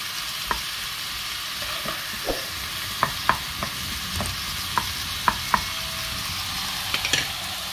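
Onion searing fast over high heat in a pan hisses steadily, broken by a string of sharp clicks and scrapes as it is stirred, with no voices.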